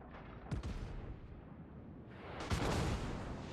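Shore batteries firing at a ship in World of Warships, two sharp booming gun blasts, the second heavier and followed by a rolling roar, loud with no talking.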